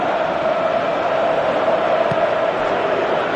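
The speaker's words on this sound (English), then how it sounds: "Crowd appreciates good football all round there." A packed football stadium crowd at a Champions League quarter-final between Manchester City and Borussia Dortmund gives a sustained, broad roar of appreciation, loud and steady throughout.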